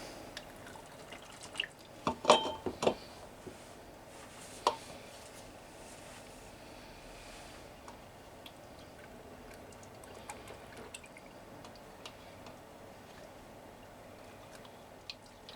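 Canned beer being poured into an Ice Master beer pump in a garden bar, a soft liquid pour and trickle with a few sharper clinks and splashes early on, then a steady low flow close by.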